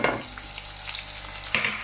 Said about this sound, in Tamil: இதையும் நல்லா ஃப்ரை பண்ணி விட்ருங்க